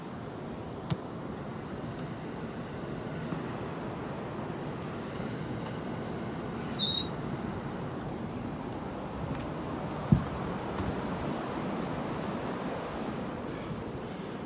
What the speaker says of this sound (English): Not sure if you can hear the wind.